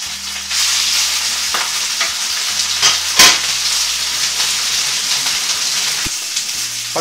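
Chicken thigh fillet laid into a hot oiled frying pan, giving a loud, steady sizzle that continues throughout, with a few brief clicks and knocks and no talking.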